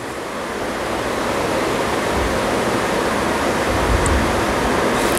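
Chopped onions frying in a pan, a dense, continuous sizzle that stays steady and fairly loud throughout, with no talk.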